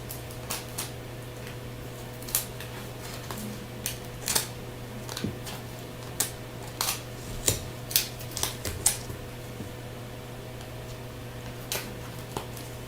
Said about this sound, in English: I'm going to cut off the excess.